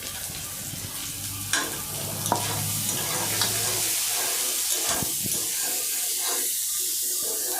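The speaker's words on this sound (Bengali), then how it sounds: "ক্যাপসিকাম, পেঁয়াজ, টমেটো সুন্দর করে আমি ভেজে নিয়েছি।" Capsicum, onion and tomato fry in a pan with a steady broadband sizzle, broken by a few sharp scrapes and stirs of a utensil against the pan, close up with no talking.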